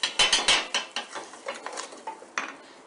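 Pepper sauce being stirred in a pan with a utensil, giving a close series of quick metallic scrapes and clinks in a steady rhythm that fades slightly toward the end.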